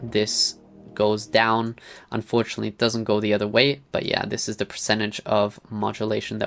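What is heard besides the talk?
None of the usual background noises is heard.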